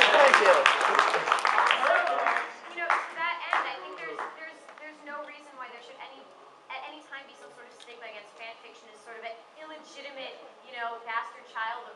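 Audience applause at a convention fanfiction panel, a brief burst of clapping at the start that fades within a few seconds, followed by people talking.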